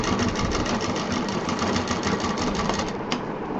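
Electric sewing machine stitching a homemade handpurse through a doubled layer of fabric, a steady rapid needle chatter running continuously and close up with no pauses.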